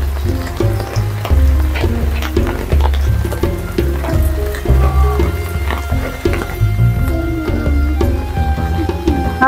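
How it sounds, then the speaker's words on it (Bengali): Steady rain falls on a flooded village farm, a continuous dense hiss with scattered heavier patters and low thumps throughout, close and fairly loud with no talking. "দিন ধরে বৃষ্টি আছে"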